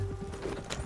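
Horse hooves clip-clop in Red Dead Redemption 2 as a rider sets off, with several quick, soft, fairly close hoof thuds in an uneven gallop rhythm over a faint steady tone, with no voices.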